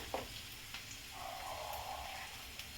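Chopped onion frying in a pan while it browns gives a soft, steady sizzle, faint and close, with a couple of small clicks from stirring.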